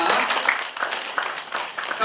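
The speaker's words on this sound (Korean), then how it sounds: "박수 부탁드리겠습니다." Scattered audience applause at a broadcaster's tenth-anniversary ceremony with a ten-singers performance, moderately loud hand clapping that swells and fades over two seconds, with faint voices mixed in.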